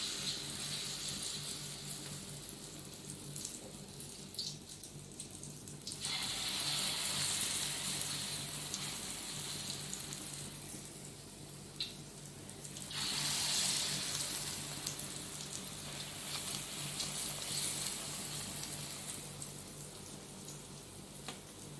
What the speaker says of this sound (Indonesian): Sekarang mau goreng bakwannya